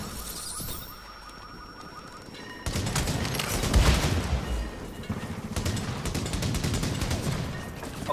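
Sustained automatic gunfire in the video game The Division, quiet game ambience at first, then loud continuous rattling bursts with a heavy impact partway through.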